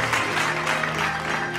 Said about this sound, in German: Die Zwergenland Kinder klatschen für die Kinder im ganzen Land.